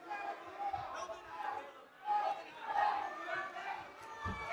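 A crowd at a 148lb pro MMA bout rises in a swell of cheers and shouts after a takedown, moderately distant and mixed with a commentator's voice over the noise.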